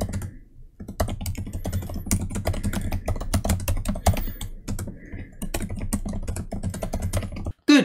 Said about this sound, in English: It also sounds incredible to type on. Here's a quick listen of what it sounds like.